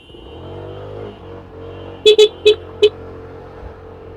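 Car horns honk four times in quick succession over a steady low hum of idling engines, heard from a motorcycle stuck in a jammed Istanbul street.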